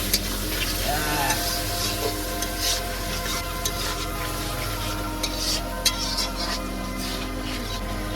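Fish curry masala with salt being sautéed in a pan during a night riverside cookout in the Sundarbans: a continuous sizzle with steady stirring and scraping, close, with a voice briefly heard over the cooking.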